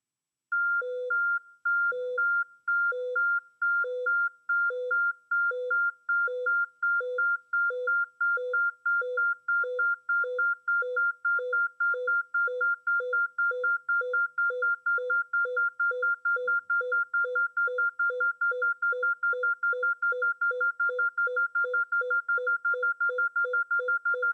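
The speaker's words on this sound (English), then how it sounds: "You will hear a cycle of 2 high tones and 1 low tone in a galloping pattern." Synthetic beeping tones repeat in a steady galloping cycle of two high tones and one low tone, clean and loud, speeding up as each tone is shortened until the beeps run together into a rapid pulse, with no other sounds.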